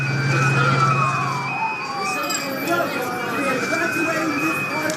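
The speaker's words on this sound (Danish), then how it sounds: "This ambulance is about 100 feet ahead." Ambulance siren during an evacuation in Manhattan, a wailing tone sweeping up and down continuously a short distance ahead, mixed with street noise and voices talking over it.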